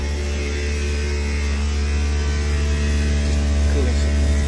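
A Daikin VRV inverter compressor and outdoor fan of an HVAC system running steadily, a loud continuous tonal hum with strong low harmonics and broadband whir holding level throughout with no speech.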